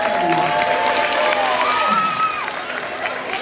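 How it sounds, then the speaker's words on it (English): Game show audience members cheer and applaud for the players, a loud crowd of clapping and shouting that fades slightly toward the end. Voices call out over the noise. "Let's give them a round of applause."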